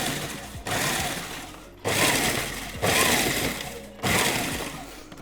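An electric mixer whirs in loud bursts as crumbled biscuits are combined with melted butter for a no-bake gingerbread cheesecake base, four stop-start runs of grinding motor noise close by.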